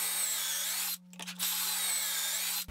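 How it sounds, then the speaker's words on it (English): Power drill driving pocket screws into wood while building a floating bed frame, heard as a steady close whine that cuts out briefly in the middle, stutters, then resumes and stops at the end. "So let's get drilling."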